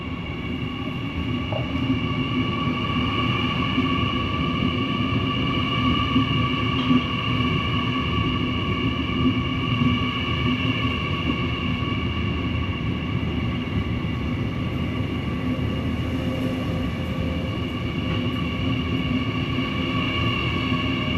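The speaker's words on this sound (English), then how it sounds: "10-car Mariang D set are ready to depart for a service to Central Sydney Terminal via Strathfield" A stationary 10-car NSW D set passenger train hums steadily at Newcastle Interchange platform, its engines and air systems droning continuously with no voices.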